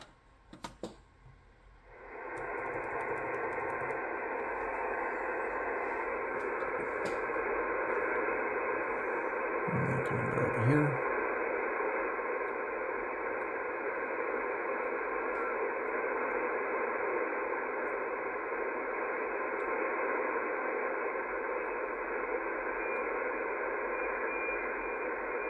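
A shortwave radio signal received on an SDRPlay RSP1A during a scan of the 11000 to 12000 kHz band gives a steady, buzzing, fax-like tone over hiss. It is sustained and even, with a brief knock partway through.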